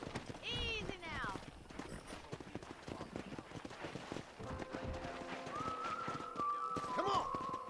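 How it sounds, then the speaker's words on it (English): Hooves of wild horses pound along in Red Dead Redemption, a quick clip-clop rhythm with a whinny early on, heard under a voice amid outdoor ambience and faint whistled music. "there's a pack of wild horses nearby"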